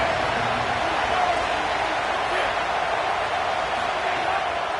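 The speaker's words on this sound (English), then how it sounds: "This crowd bringing the energy and noise early." Steady roar of a stadium crowd in the College Football 27 video game, Virginia Tech vs. Maryland, a dense constant wash of cheering that holds at an even level throughout with no clear voices standing out.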